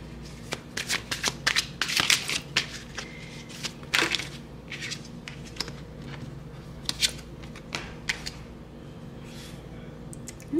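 Tarot cards being shuffled by hand, a series of crisp riffling flutters and slaps in irregular bursts, close and clear with no talking.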